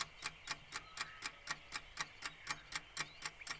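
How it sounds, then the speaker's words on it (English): A wind-up alarm clock ticks steadily and crisply, about four even ticks per second, close and fairly quiet with nothing else in the background. "my alarm clock is one of my favourite things. It makes a great ticking noise."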